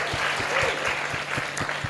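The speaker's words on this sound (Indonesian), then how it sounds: "Berikan tepuk tangan." A church congregation gives a short burst of applause at a sermon session, dense rapid clapping with a faint steady beat underneath, close and even throughout.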